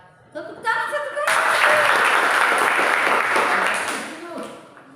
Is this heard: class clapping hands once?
yes